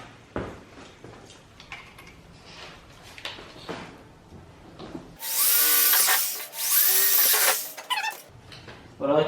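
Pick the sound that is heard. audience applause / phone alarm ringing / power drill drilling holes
power drill drilling holes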